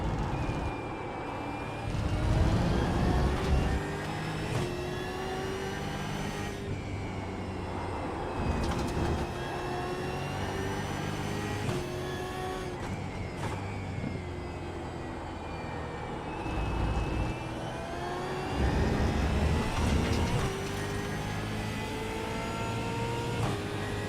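A race car's engine revving through a lap, rising and falling in repeated gear-change sweeps, loud and continuous with brief dips between shifts, no talk.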